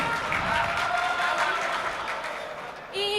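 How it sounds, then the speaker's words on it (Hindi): Audience applause at a Hindi-Urdu mushaira poetry gathering, a dense wash of clapping that slowly fades, with a voice coming in at the very end. "एक बार जोरदार तालियों से उनका इस्तकबाल कर दो।"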